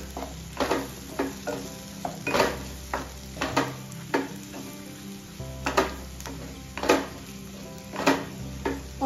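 Kashmiri red chili powder and cumin powder stirred in a pan while making mix veg kofta. Steady faint sizzle with repeated sharp scrapes of a spoon against the pan, roughly every half second to second, close up and without talk.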